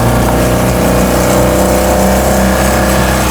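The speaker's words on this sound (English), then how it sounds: "A fully rebuilt 2-litre Zetec engine running on 45 Weber carburettors." A fully rebuilt 2-litre Zetec engine on 45 Weber carburettors in a restored 1976 Mk2 Ford Escort idles steadily nearby, a loud, even mechanical drone with a low throbbing rumble and no voices.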